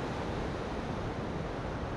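Open-ocean waves break on a coral reef around a tropical lagoon island, making a steady, dense roaring wash of surf with no distinct individual breakers and no voices.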